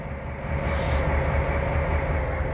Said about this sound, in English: Now apply the train brake and stop before the red signal.